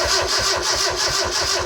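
A Mazda 323 with a swapped-in BPT engine starts for the first time, cranking and catching into a loud, steady, rhythmic running chug up close with no voices.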